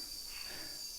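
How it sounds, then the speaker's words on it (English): Small frogs in a bowl of water near a hillside cave area in Chiang Mai give a continuous high buzzing trill, faint and steady throughout, with no voices. "Noisy little frogs in this bowl of water here, and they're talking to other noisy frogs over"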